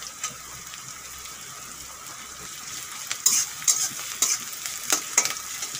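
Chopped garlic and onion fry in a pan for a Bengali fish curry, a steady soft sizzle running throughout, with sharper clinks and scraping stirs breaking in during the second half.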